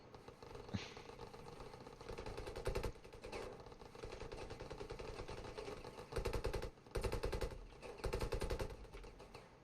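AK rifle fire in the Ravenfield video game: rapid automatic bursts in several rattling strings separated by short gaps, over a steady background hum of game noise, without any talk.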